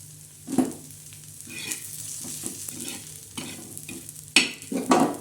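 Black masala roasting in a pan for a spicy chicken curry, with a soft continuous sizzle broken by several scraping stirs of a spoon, close and fairly quiet, no talking.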